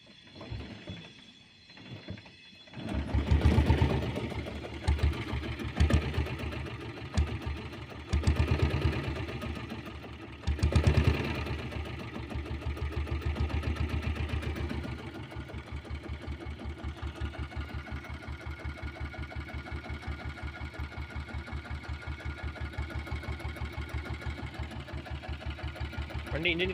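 A diesel Royal Enfield Bullet motorcycle engine starts up with uneven revving bursts, then settles into a steady, even idle, close by and loud, with voices talking briefly over it.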